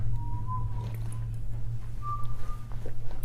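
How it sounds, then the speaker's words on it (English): A woman whistles two sustained notes with a pause between, moderately close, over a low steady hum; rustling and faint noises follow. "you hear my wife whistling?"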